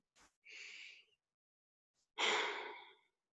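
Slow, deliberate breathing during a meditation exercise: a short puff, then a soft drawn breath and a fuller, louder exhale, close and alone in a quiet room.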